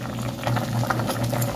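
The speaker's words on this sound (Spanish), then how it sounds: "Dije que iba a apagar, pero dejaré otros 3 minutos más hirviendo." Shrimp soup bubbling at a steady boil in a pot, a continuous close, moderate churning and popping texture with no voices.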